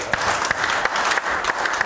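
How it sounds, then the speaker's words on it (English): Church congregation clapping during a Sunday service, brisk close applause with sharp individual claps standing out over the steady patter. "Give him a hand clap this morning."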